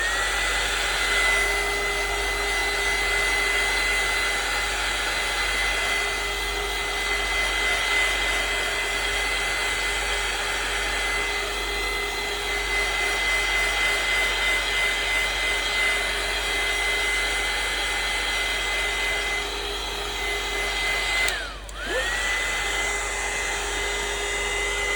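A handheld heat tool or hair dryer blows steadily over mixed media artwork, a loud continuous whine and rush of air that briefly dips near the end before resuming.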